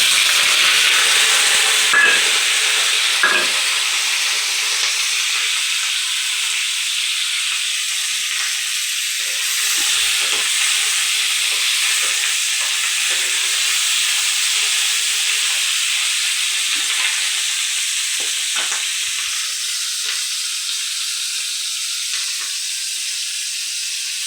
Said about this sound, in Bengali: এবারে আমি এই তেলের মধ্যেই পেঁয়াজ ক্যাপসিকাম দিয়ে দেবো